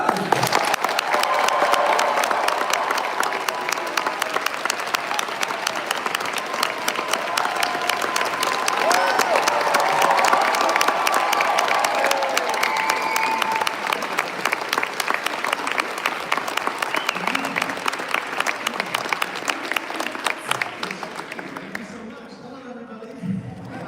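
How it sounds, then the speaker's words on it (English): A Vienna Comic Con 2025 audience greets Elijah Wood with steady, dense applause and scattered cheers that hold at full strength for about twenty seconds before fading away. "please give him a hell of applause"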